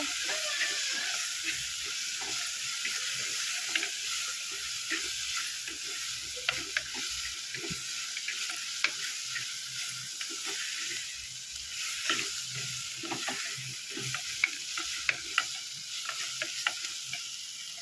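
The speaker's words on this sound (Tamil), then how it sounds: "வெங்காயம் தக்காளி நல்லா வதங்கட்டும்" Onions and tomatoes sautéing in a pan for a fish curry, a continuous close sizzle with scattered light clicks of stirring throughout, no talking.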